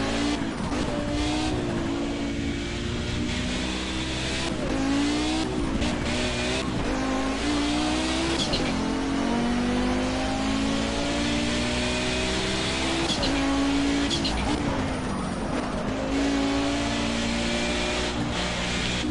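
Race car in Project Cars screaming through repeated gear changes, its engine pitch climbing and dropping in rhythmic sweeps, with tyre squeal and skids in the corners; loud and continuous, with no talking.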